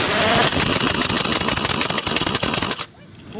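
Motorized machine tightening fittings on a punctured tractor tyre during a repair, a loud steady whirring mechanical drone that runs continuously for nearly three seconds and then cuts off abruptly, leaving quiet background.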